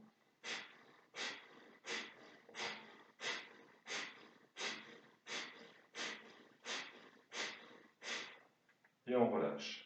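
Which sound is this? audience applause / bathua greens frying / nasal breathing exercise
nasal breathing exercise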